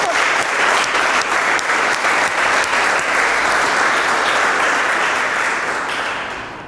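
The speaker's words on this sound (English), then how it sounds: "Please clap for." A school classroom breaks into sustained applause, many hands clapping steadily and fairly loud for several seconds before tapering slightly at the close.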